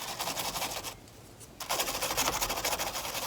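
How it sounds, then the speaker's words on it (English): Brass wire brush scrubbing screws on the door of a 1979 Ford F100 truck, a steady rapid raspy scrub that pauses briefly before resuming, loud and close. "I got a brass brush here."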